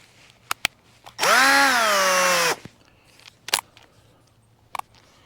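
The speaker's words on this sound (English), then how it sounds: "And then we can drill our new holes." A power drill whines loudly for about a second, its motor pitch steady, surrounded by quiet clicks and handling noises.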